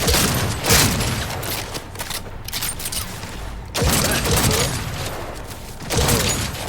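Heavy gunfire in Cyberpunk 2077, loud sustained bursts of shots close by in several waves, with a short lull in the middle and booming impacts mixed into the barrage.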